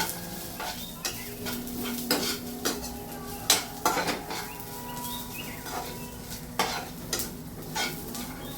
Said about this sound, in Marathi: तो लसूण देखील टाकायचा. तो छान परतून घ्यायचा.